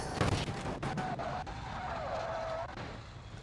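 A truck fitted with a giant airplane engine skids and crashes in traffic in the BeamNG driving game, with a loud, continuous engine roar, squealing tires and a few sharp impact thuds.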